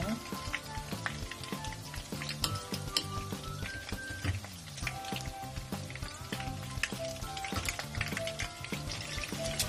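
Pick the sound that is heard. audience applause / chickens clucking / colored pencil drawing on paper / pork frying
pork frying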